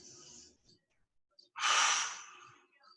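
Two forceful breaths during a fitness class: a short, softer exhale near the start, then a long, loud, breathy exhale close to the microphone, with a brief quiet instructor's voice near the end.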